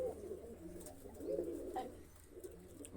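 Pigeons coo softly and repeatedly, low rolling calls overlapping in a steady murmur, moderately close with faint background rustle.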